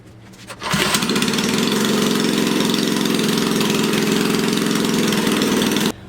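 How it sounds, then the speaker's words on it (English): A small Motovox mini bike engine starts and then runs steadily, loud and close, with a buzzing lawnmower-like drone that holds a fairly even speed while the throttle is adjusted, then cuts off at the end with no voices. "now that we have it started, we're gonna adjust the throttle speed and see if that'll change anything"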